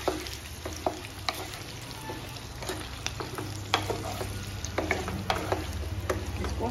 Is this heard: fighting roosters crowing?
no